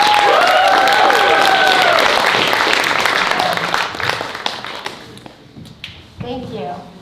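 Dense audience applause welcomes speaker Narinder Dhami at a Youth Empowerment Network Toronto event, loud and steady for about five seconds before thinning into scattered claps and room noise.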